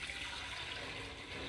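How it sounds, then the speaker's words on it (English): Steady rushing splash of water poured in a continuous stream into a Silvercrest blender jar, close and fairly loud, with no talking. "Let me pour water inside for you to see."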